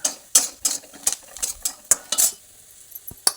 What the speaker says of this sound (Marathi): कलर बदलूपर्यंत परतून घ्यायचा कांदा गुलाबी कलरवर छान भाजलेला आहे